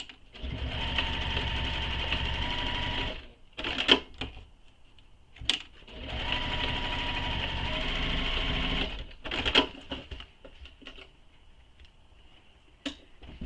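A sewing machine stitches two rows along a backpack strap: two steady, loud runs of rapid stitching, each about three seconds, with clicks and handling noises in the pauses between them.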